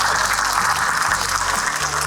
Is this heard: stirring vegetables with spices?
no